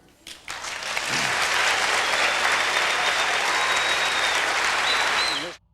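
Audience applause after Nelson Mandela's answer about Israel and the occupied territories: a dense, loud burst of clapping that swells within a second, holds steady for several seconds and then cuts off abruptly.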